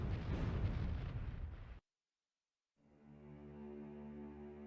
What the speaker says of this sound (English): depth charges spread out around the submerged boats and the lethal explosions that